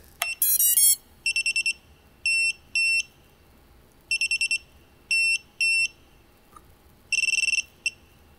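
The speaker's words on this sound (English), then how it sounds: "when you turn on your quad, it'll sound something like this." An HGLRC XJB 145 quadcopter sounds its no-gyro warning at power-on. An opening chirp sequence leads into repeated groups of sharp, high electronic beeps in short bursts with pauses, close and clear over quiet background.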